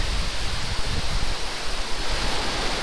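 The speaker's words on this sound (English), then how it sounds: "Ignition. Hit! Yeah. Liftoff. Go Falcon, go GPS." A steady, broad rushing roar with low rumble from a SpaceX Falcon rocket lifting off with a GPS III satellite, like a distant rocket engine, constant throughout.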